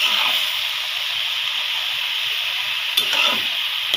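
Banana stem and garlic sizzle in hot oil while being stirred, a loud, continuous frying hiss with a few clattering scrapes of the spoon near the end.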